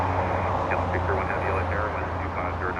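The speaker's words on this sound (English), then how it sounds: "Delta 1903 flying in from Guatemala City on taxiway hotel, landed on 25 left, already exited the runway and heading to Lima." A Delta airliner taxiing on a taxiway at Los Angeles International Airport after landing, a steady loud jet-engine roar with a constant low hum, under faint radio-like chatter.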